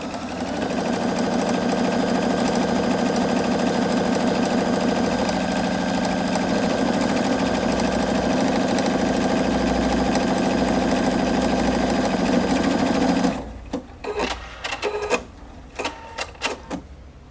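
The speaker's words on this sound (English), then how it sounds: "you can repeat it as many times as you like, and it'll do that same buttonhole stitch" A Viking Opal 690Q sewing machine stitching a buttonhole hums loudly and continuously with a rapid needle rhythm for about thirteen seconds, then stops and leaves a few faint clicks and handling noises.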